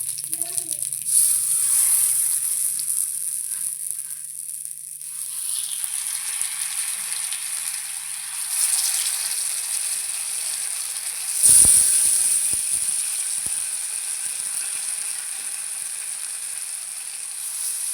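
Fish coated in masala fries in a pan with a steady, airy hiss. A louder spitting burst flares about two-thirds of the way through.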